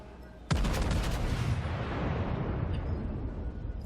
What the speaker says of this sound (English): Take another broadside at the Königsberg